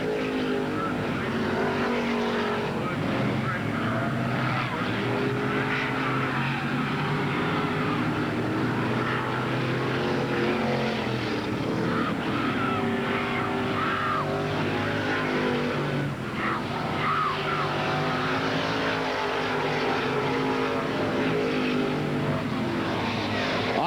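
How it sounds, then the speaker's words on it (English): Late model stock cars racing at Ada Raceway in 1987, with a continuous engine roar from the pack that swells and fades slightly as the cars circle the track. "On the outside in turn number 1 and 2, Ben Lewis, the J1 car, moves into 3rd place."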